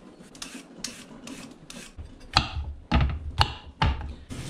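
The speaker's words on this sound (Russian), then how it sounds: "срезаю шкуру из редиски, из огурцов и на терке натираю" Radishes and cucumbers are grated on a hand grater, with repeated rasping scrapes close by that come in an uneven rhythm and grow louder and heavier toward the end.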